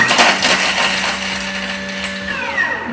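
A Thermomix chops garlic on speed 8 for a short run: a loud, close, high whirring blade burst that winds down near the end.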